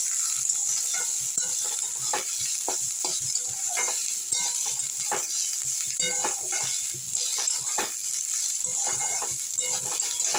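Cauliflower florets and green peas fry in oil in a pan, a steady soft sizzle broken by frequent scraping stirs and light clinks of the spoon against the pan.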